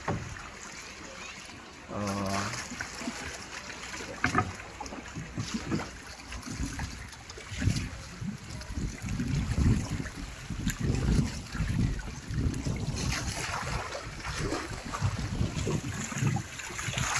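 A small boat moves across water with continuous splashing, trickling and wash around the hull, close and fairly steady for a long stretch, with a brief mechanical whine early on and faint voices in the background.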